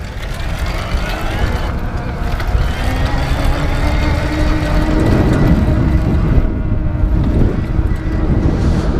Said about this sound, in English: I'm just going to pedal along in turbo so you get some idea of the sound this thing produces